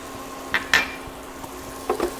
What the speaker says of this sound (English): Mix that up, and we're making a roux.